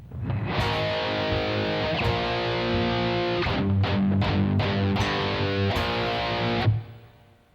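Heavily distorted electric guitar plays a lick, first ringing sustained chords, then a run of sharp, choppy palm-muted stabs before a final held chord fades out, played loud with no voices.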